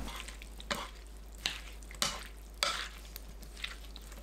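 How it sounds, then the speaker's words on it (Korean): Several soft, wet scraping strokes come at a steady pace, each a brief mushy swish over a quiet background, mixing tuna into a cucumber and onion salad. "참치 넣고 섞어줍니다."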